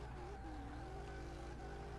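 A front-wheel-drive drift kart's engine hums and whines steadily for a couple of seconds, fairly quiet and with no voices over it.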